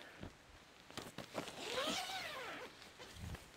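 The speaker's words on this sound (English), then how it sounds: "You can unzip them from either side" A tent skylight zipper on a Minimal Works Shelter G is drawn open in a soft rasping pull, quiet and close, preceded by faint handling taps.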